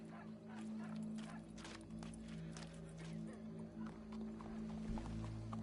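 A horse's hooves clip-clop at a steady walking pace over a constant low hum, with faint voices in the background.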